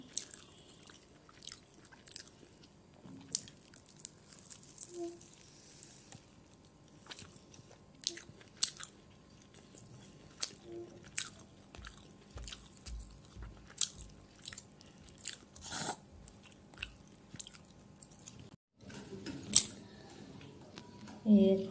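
Close, quiet biting and chewing during a home meal of rohu fish curry with cauliflower, potato and ghee, soft irregular crunches and mouth sounds spread over the stretch, with a few faint voices.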